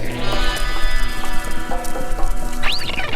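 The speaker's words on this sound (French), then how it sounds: "Maintenant on attend les chevaux." Horses arrive during an equestrian trek, hooves clip-clopping steadily at close range, with a brief whinny near the end and no talking.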